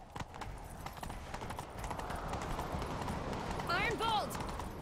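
Rapid hoofbeats of a galloping horse in the game The Witcher 3 under steady background noise, with a short whinny near the end.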